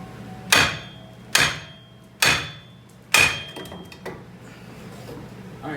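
Four sharp, ringing metal hammer blows, roughly evenly spaced, strike a wheel hub assembly while it is being knocked off a 2007-2016 Acadia/Enclave, followed by a fainter fifth tap and quiet room noise.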